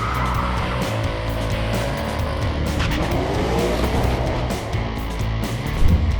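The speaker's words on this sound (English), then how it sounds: "we're test driving the new 2019 GT350" A 2019 Shelby GT350 Mustang on a race track roars with a sustained engine note while its tires squeal through corners, loud and continuous with no talking.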